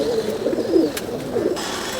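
Pigeons coo in low, throaty, continuous calls close by on an old rooftop in Jammu and Kashmir, a dense overlapping murmur with no voices.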